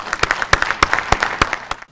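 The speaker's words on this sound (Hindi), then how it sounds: "अपने लिए जोरदार तालियां बजाओ सब।" Rhythmic clapping rings out, a steady beat of sharp claps layered over a lighter patter of hands from a small group.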